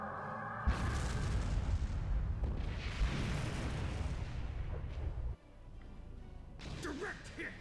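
Starship weapons fire and explosions in the Star Trek Online game: heavy booming blasts and rumbling bursts rolling for several seconds, then a quieter stretch before another burst.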